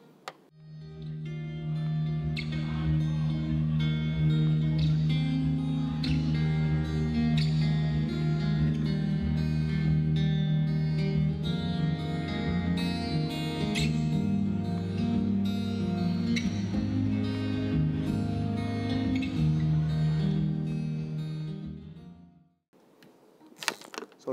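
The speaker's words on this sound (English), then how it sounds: "acoustic guitar, fantastic." Acoustic guitar from a guitarist's rig is strummed and picked for about twenty seconds, a full, bright, steady passage close to the microphone, ending with some handling noise.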